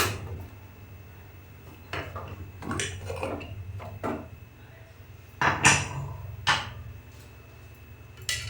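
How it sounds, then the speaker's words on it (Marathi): A pressure cooker lid is opened after three whistles while cooking jaggery lapsi, giving several sharp metallic clanks and scrapes of the lid against the pot, close and fairly loud over a low hum. "कुकरचं झाकण उघडून बघते शिटीतली वाफ गेली"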